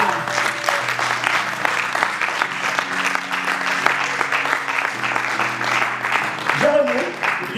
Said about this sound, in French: Applaudis-les s'il te plaît.